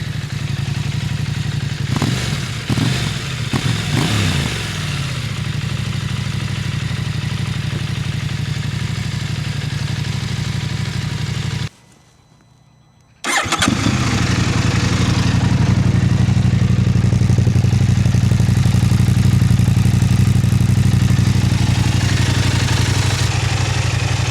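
A KTM 890 Adventure motorcycle with a Black Widow exhaust idles with a steady, loud, close engine rumble and a few revs, cuts out briefly, then runs on again at a slightly higher, sustained idle.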